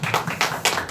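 A church youth congregation claps for high school seniors, a short burst of several quick, close hand claps in an uneven rhythm.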